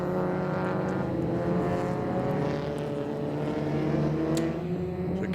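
Alfa Romeo race cars at Winton following a pace car down the long straight, a steady droning engine note with layered harmonics, moderately close and continuous.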